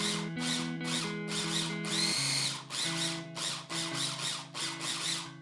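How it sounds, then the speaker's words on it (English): A mini prep food processor pulses peanut sauce ingredients in about eight short, loud, whirring bursts separated by brief pauses, close by and with no speech. "I'm going to give it a couple of pulses before I add the sambal, sugar, and salt"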